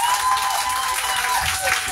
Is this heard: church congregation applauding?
yes